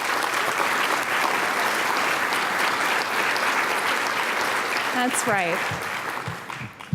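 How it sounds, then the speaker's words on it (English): Audience at a Catholic Social Services charity breakfast applauding sponsors, sustained crowd clapping that tapers toward the end as someone briefly speaks. "Let's give them a round of applause."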